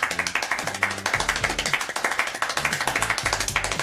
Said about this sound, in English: This man is the fastest clapper, being able to do 14 claps per second.